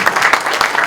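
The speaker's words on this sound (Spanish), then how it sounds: "Un aplauso entonces para nuestro gran anfitrión" Brief burst of audience clapping for the host of a talk at the Antofagasta International Book Fair, a short dense patter of many hands close by.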